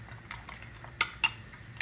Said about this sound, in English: mix the chive with the egg